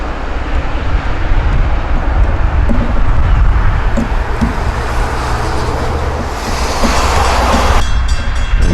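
A Long Island Rail Road passenger train, train 16 with an M3 set of twelve cars, passes close and loud in a sustained rumble with rhythmic wheel clatter, and the sound brightens and swells near the end.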